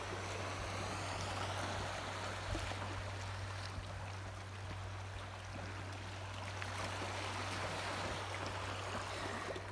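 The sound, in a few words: sea waves on the shore in Sardinia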